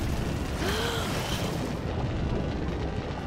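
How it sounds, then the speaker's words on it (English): Explosions in Resident Evil: Revelations, a rumbling, roaring blast noise that is moderately loud and fills the whole stretch, steady rather than a single sharp boom. "The explosions have started."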